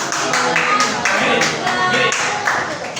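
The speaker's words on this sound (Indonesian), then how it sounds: "Beri tepuk tangan untuk kelompok 3." A classroom group claps for a student team after a microteaching presentation, with uneven bursts of hand claps rising and fading in waves, close and moderately loud, mixed with some voices.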